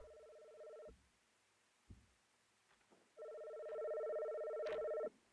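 An old-style telephone rings in two bursts of trilling double tones inside an itch.io video game, clear and fairly quiet, with a short silent gap between the rings and no talking.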